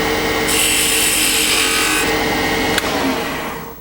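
A wood lathe spins a bocote drop pendant while a tool cuts the bottom of the bell shape, a loud, steady scraping hiss that fades out near the end.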